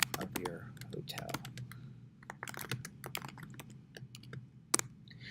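Keys clatter on a computer keyboard in irregular bursts of close, crisp clicks while someone enters a hotel name into a budget spreadsheet, with a low steady hum underneath and no talking.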